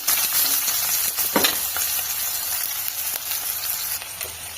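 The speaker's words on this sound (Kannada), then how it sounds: "ಸೋಂಪು ಕಾಳು ಚೆನ್ನಾಗಿ ಫ್ರೈ ಆಗ್ತಾ ಇದೆ ಇದಕ್ಕೆ ನಾವು ಈರುಳ್ಳಿಯನ್ನು ಸೇರಿಸ್ಕೊಡ್ಬೇಕು" Sliced onions frying with fennel seeds in a hot pan, a loud continuous close sizzle with a brief stirring scrape partway through, no voices.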